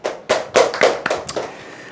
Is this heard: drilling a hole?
no